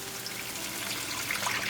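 Water is poured from a cup into a pot of spiced kidney beans and rice for pilaf, making a soft, steady splashing trickle close by with no talking.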